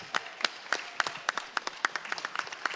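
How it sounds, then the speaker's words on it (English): An audience at a county election candidate debate gives a brief, light round of applause, with scattered individual claps at close range. "let's give everybody a round of applause"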